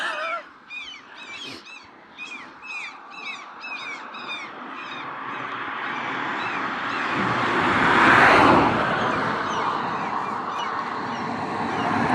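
Crows caw repeatedly in a field in Scotland while fighting, a run of harsh calls in the first half that gives way to rising wind and road rumble.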